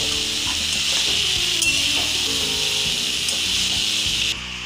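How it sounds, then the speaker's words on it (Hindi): Cumin seeds roast in a hot pan with shrimp and potato, a steady bright sizzle with scraping stir strokes throughout, close and loud, dropping slightly in level at the very end. "अब इसमें जीरा डाल देते हैं और फिर से सभी को चला लेंगे और सभी के साथ जीरा को भी हम भून लेते हैं हल्का"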